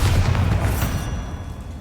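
A Bombarda blast spell from Hogwarts Legacy bursts as one loud, deep boom, its rumbling tail fading away over a couple of seconds with no voices.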